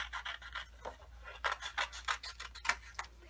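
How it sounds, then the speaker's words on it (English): Scissors fussy cut a stamped paper sailboat, a close, quiet run of steady little snips and rasping strokes through card stock. "So I just fussy cut that out."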